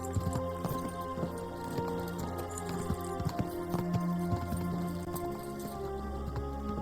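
Horse hooves clip-clopping in the medieval video game Kingdom Come: Deliverance II, a steady rhythmic run of hoofbeats along a path over game music and ambience, close and continuous.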